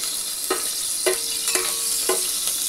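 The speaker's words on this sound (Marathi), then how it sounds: "इलायची टाकायची आहे आणि 4-5 लवंगा टाकून द्यायचे आहे" Green cardamom and cloves sizzle in hot ghee with a steady, bright frying hiss. A spoon strikes and scrapes the pan four times at an even pace, all close and with no voices.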